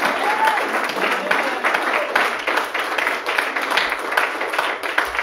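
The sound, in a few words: church congregation applauding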